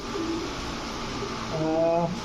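A silver male pigeon for sale coos in a short burst of low, throaty notes toward the end, close by, with someone talking quietly in the background.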